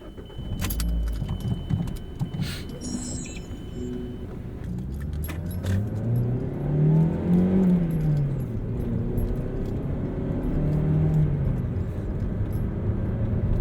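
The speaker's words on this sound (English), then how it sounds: "let's go ahead and take the Mazda 3 out for a drive." A 2012 Mazda 3 Skyactiv with a manual transmission pulls away, its engine note rising and falling through the gears, steady and fairly close, with a brief key jangle at the start.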